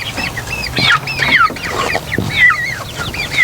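Several chickens clucking loudly and close by, with overlapping calls and a squawk in a busy, continuous chorus and no talking.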